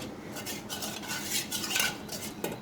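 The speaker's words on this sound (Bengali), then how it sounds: "এটা ভালো করে হ্যান্ড উইক্সের সাহায্যে নেড়ে চেড়ে" Hand whisk stirring eggs, mango puree and milk for a mango pudding, a steady close clatter of metal tines against a bowl with rhythmic scraping throughout.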